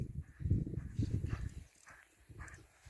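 A Criollo horse's hooves thud on the ground in a quick uneven run of soft clip-clop beats, fairly faint and close, with no talk over them.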